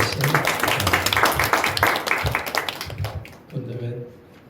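Church congregation clapping together during a Sunday morning worship service, a dense burst of hands lasting about three seconds that fades out as a voice begins speaking.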